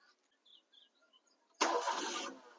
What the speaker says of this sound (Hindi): गाड़ी एक सेल्फ में स्टार्ट हो गई